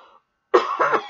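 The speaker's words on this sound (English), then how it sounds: "Coughing." A person coughs up close in a short, rough burst that follows a faint murmur, during a quiet spoken light-language session.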